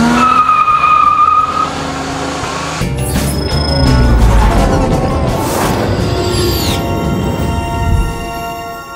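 A car doing a burnout with tires squealing, a loud, continuous engine roar and screeching rubber throughout, swelling in the middle and easing toward the end.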